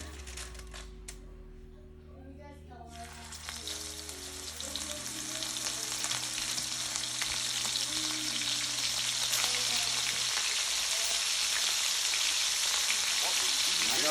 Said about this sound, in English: we're going to go ahead and start putting our burgers in the pan